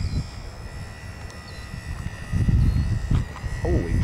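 A HobbyZone SuperCub styrofoam RC plane flies in high wind, its thin motor whine heard faintly above heavy, rumbling wind buffeting on the microphone that swells louder toward the end.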